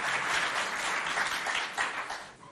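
Audience applause greeting a school poetry reciter at a student event in Doba, a short burst of dense clapping that stays fairly even and fades slightly at the end.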